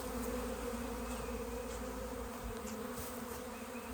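A honey bee colony hums at the hive, a dense, continuous buzz of many insects close by, steady and unbroken with no voices.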